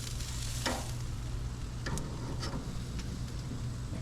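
Chicken wings sizzle faintly on a cherry and apple wood smoker as they are flipped, with a steady soft crackle broken by a few light clicks and taps of tongs against the grate.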